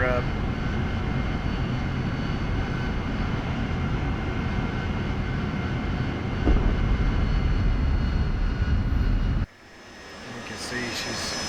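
Roaring jet engine of an AV-8B Harrier in the DCS flight simulator during takeoff, a loud steady broadband rumble that cuts off abruptly near the end, leaving a quieter hum.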